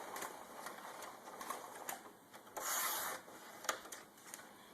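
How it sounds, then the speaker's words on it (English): Hand crank turned on an adhesive applicator machine applying temporary repositionable adhesive to pattern pieces, giving soft rubbing and rolling friction with light repeated clicks, close and quiet. "You just turn the crank,"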